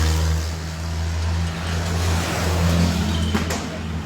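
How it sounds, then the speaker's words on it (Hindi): Tractor engines droning steadily as the tractors are turned around at a farmers' protest where police fire tear gas, a low rumbling hum that holds throughout with slight swells in revving. "दोबारा से ट्रैक्टर मोड़ के ले जा रहे हैं"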